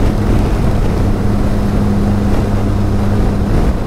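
A heavy motorcycle riding along an open road, a continuous loud engine drone with a steady low hum and wind rush, unbroken for several seconds, with no voices.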